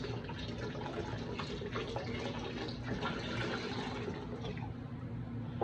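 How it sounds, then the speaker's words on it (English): Water pours steadily from a 32-ounce container into a pot of chicken and sausage gumbo, a continuous close rushing splash that holds an even level for several seconds with no talking. "we're gonna go in with 2 more 32-ounce containers full of water"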